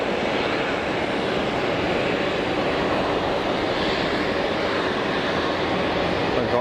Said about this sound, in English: Pegasus 321 Neo is about to roll.